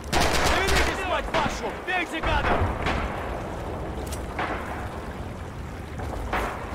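Gunfire rattles in the WWII shooter game Red Orchestra 2 during a bridge fight. Dense volleys of rifle and machine-gun shots crack over a rumbling battlefield, loud at first and then easing into steadier distant bursts.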